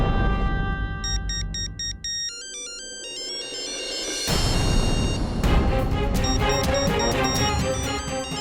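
A phone ringtone plays loudly and alone: a quick, melodic run of bright electronic tones climbing and repeating, then a denser, pulsing burst of chiming notes that carries on to the end.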